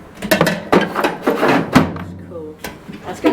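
Metal tool box drawers knocking and sliding as they are opened and shut, in several quick bursts close by, with people talking over them.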